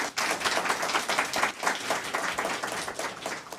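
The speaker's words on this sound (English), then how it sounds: "let's give Chief Policia a round of applause" Audience applause at a fire department awards and recognition ceremony honoring a deputy chief for 28 years of service: dense, steady clapping from many hands, fairly close and sustained throughout with no voices over it.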